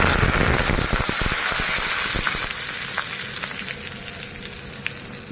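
Green chillies and curry leaves sizzle loudly in hot oil in a frying pan, a dense crackling hiss with sharp spitting pops that gradually settles slightly, no voices.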